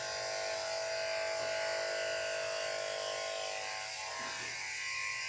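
An electric clipper runs through a dog's coat during grooming, giving a steady, close buzzing hum that holds evenly for the whole stretch with no voices.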